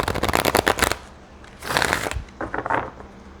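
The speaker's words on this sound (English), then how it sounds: "shuffle this way and pull one other card for the money" Tarot cards being shuffled by hand, two or three quick bursts of riffling and flicking, close and crisp with short pauses between.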